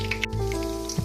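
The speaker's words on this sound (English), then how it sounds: "Now you want to add your chicken to the oil, and you want it to cook for 1 minute, and we're going to fry them in batches" Chicken pieces frying in hot oil in a frying pan give a steady, close, continuous sizzle with small crackling pops throughout.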